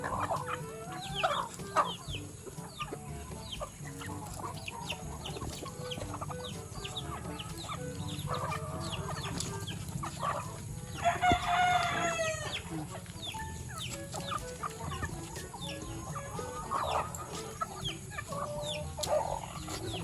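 Chickens cluck and call near and far over a quiet outdoor background, with a brief burst of louder squawking midway.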